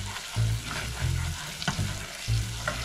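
Red chili powder hits a pan of frying masala for chole, with steady close sizzling and a few stirring scrapes throughout.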